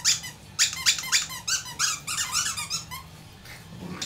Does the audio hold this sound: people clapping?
no